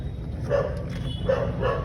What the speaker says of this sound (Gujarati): કુતરો છે હસ્કી નામ ઉપરથી